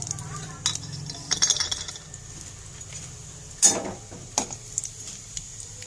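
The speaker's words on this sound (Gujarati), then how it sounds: "હવે આપણે ચમચાના મદદથી એને હલાવી દઈશું।" A spoon scraping and clinking against a pan as whole spices are stirred, a few sharp metallic taps over a faint sizzle.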